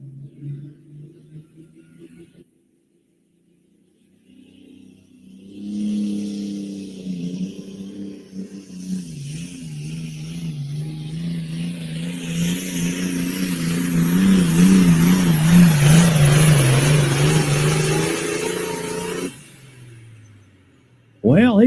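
A 9,200-pound super farm class tractor roars down the track at a truck and tractor pull, its diesel engine building from a quiet start into a loud, sustained rising rev for about fourteen seconds before cutting off abruptly.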